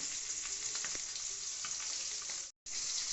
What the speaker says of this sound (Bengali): দেখতেই পাচ্ছেন আমাদের মোটামুটি মাছ ভাজা হয়ে গেছে